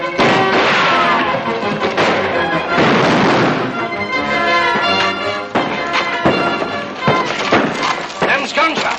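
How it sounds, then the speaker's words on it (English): Gunfire in a 1941 Hopalong Cassidy western, loud sharp shots cracking repeatedly amid busy movie soundtrack noise, with voices speaking over parts of the burst. "Them's gunshots."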